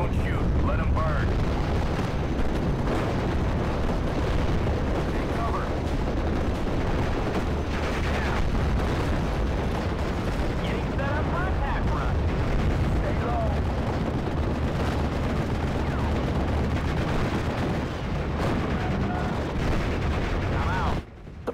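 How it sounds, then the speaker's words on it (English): Nebelwerfer rocket artillery barrage in the WWII game Steel Division Normandy 44, a dense unbroken roar of blasts, booms and gunfire rumbling loudly for over twenty seconds, with voices buried in the din. "Nebelwerfer Barrage, get down! I hate those damn screaming memes."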